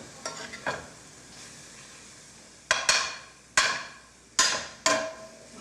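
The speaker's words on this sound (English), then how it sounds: "let me stir that dried parsley down into this thing that we got here" A spoon stirs dried parsley into a sauce in a pot, giving soft scraping followed by four sharp, evenly spaced clacks against the pot, close and fairly quiet with no talking.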